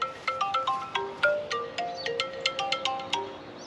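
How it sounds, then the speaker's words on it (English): A phone ringtone plays a bright, repeating melodic pattern of plucked, chime-like notes at a steady pace, close and clear with no talking. "it was a phone call"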